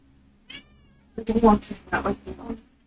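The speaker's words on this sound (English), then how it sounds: "Good boy, kitty." A cat meows close by, a faint early mew followed by several louder, drawn-out meows in quick succession, with no talk over them.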